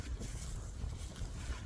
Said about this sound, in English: Sorry about the wind. It's pretty darn windy out here today.